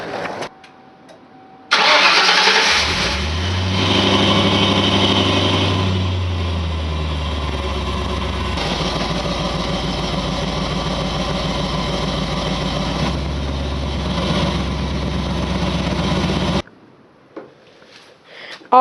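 A car engine cold-starts with a short crank, catches and settles into a steady, loud idle that runs close by for about fifteen seconds before cutting off.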